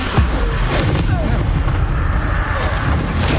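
Confringo and Bombarda blasting spells exploding in Hogwarts Legacy, a rapid run of heavy booming blasts and crackling impacts, loud and close, with some voice mixed in.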